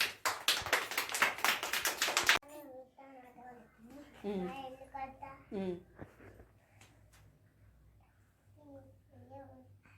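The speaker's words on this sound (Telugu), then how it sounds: "క్లాప్స్." Children clap their hands in a quick, steady run of about a dozen loud claps lasting a couple of seconds, then young voices chatter in a classroom setting.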